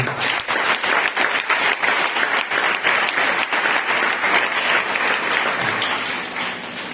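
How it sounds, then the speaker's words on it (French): A church congregation bursts into steady, dense applause at a service, the clapping close and loud throughout before easing slightly at the end. "Et acclamez pour le Seigneur."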